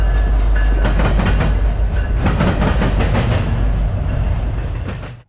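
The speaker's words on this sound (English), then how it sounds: "this eastbound intermodal led by an NS ST70 ACE" An eastbound intermodal freight train led by a Norfolk Southern locomotive rumbles past close by, with heavy low roar and rhythmic clickety-clack of wagons over rail joints, fading at the end.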